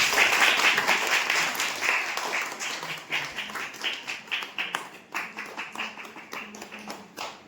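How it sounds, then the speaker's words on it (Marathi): An audience at a Republic Day program in a Marathi school claps, starting as dense applause and thinning into rhythmic, scattered claps that fade toward the end. "तर दोघं टाळ्या होऊन जाऊ दे"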